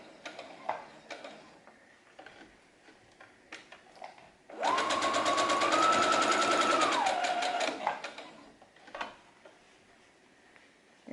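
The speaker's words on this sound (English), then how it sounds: "And now you're just sewing that all the way around." Electric sewing machine runs one steady burst of about three seconds stitching a fabric face mask seam, set between quiet handling clicks and pauses.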